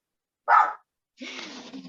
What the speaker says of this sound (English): she's barking a lot